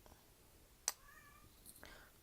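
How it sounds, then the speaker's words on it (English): A pet cat meows indoors during a makeup unboxing: a few faint, short calls close by in a quiet room, with a single soft click just before. "my cat does not stop meowing"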